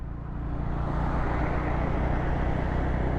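A 2024 Honda CB350 H'ness 350cc motorcycle being ridden, a steady loud engine drone with rushing road and wind noise, constant and unbroken throughout.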